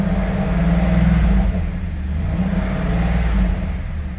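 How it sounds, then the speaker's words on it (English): A 1997 Chevrolet Camaro SS 30th Anniversary Edition V8 engine revs in neutral after a cold start. The deep, loud engine note rises and falls steadily over a continuous rumble, with no talking. "We'll get her into neutral here and rev her up a little bit for you."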